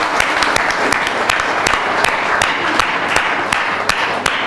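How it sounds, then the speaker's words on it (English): Audience applause closing a social business design lab session, a moderate room of people clapping steadily with a few sharp, distinct claps standing out close by. "let's give another big applause for all the 6 who have been here with us."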